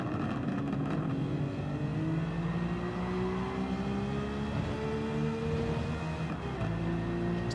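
Volkswagen Scirocco engine in the Gran Turismo 7 racing game, a sustained steady drone of a car at high revs with gentle pitch rises as it accelerates, heard alone with no talking.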